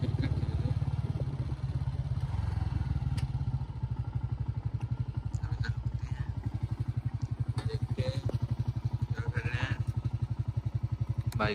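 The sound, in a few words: motorcycle riding on a dirt road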